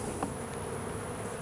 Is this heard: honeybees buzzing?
yes